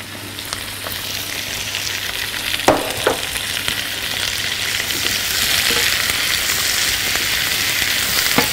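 Peppers and onions fry in a pan, giving a continuous hissing sizzle with a couple of faint utensil clicks, steady and close, with no voices.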